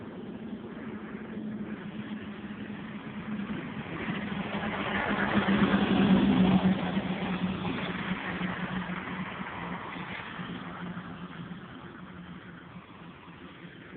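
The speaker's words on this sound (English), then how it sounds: "So here comes the truck. It's going to get noisy." A truck approaching and passing nearby, a low engine rumble that swells to a peak in the middle and then slowly fades away.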